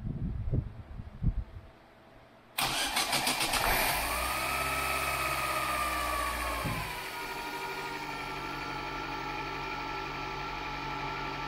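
A Chevrolet Celta's engine cranks and catches after a moment of quiet, then settles into a steady, slightly fast idle, close and loud on its own; the car has a broken timing belt.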